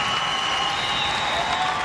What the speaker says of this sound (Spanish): gracias a este gran aplauso